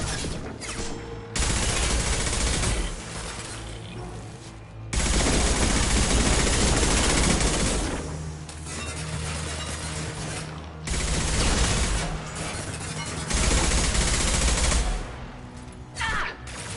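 Hacked defensive turret in Mass Effect 2 fires loud sustained bursts of automatic gunfire, several long volleys separated by brief pauses, with booming low-end impacts throughout.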